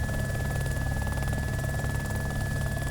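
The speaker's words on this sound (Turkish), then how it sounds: "Helikopter çalıştırıyor." A helicopter in the video game DayZ spins up, a steady loud low engine drone with a constant rotor hum and a high whine running throughout, alone.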